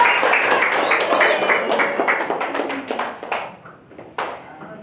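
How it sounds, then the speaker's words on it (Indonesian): Classroom applause for a student group presenting in a school lesson: a dense, steady burst of many hands clapping together, fairly close, thinning out toward the end, with voices mixed in. "Berikan tepuk tangan untuk kelompok 1."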